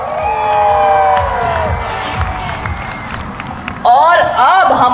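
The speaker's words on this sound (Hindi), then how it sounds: "अगर मजा आ रहा हो तो तालियों के साथ साथ किलकी भी मार दियो।" Spectators at an air show rehearsal by the Surya Kiran team in Hisar cheer, whoop and shout loudly, with some clapping. The near, continuous crowd noise swells into a sharper burst of excited shrieks near the end.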